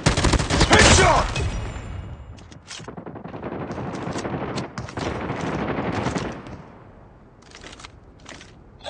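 Gunfire in Call of Duty, a sharp loud burst of shots followed by scattered rapid fire and individual shots of varying loudness, fading toward the end.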